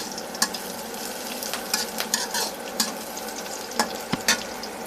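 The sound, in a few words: onion and chili frying in a pan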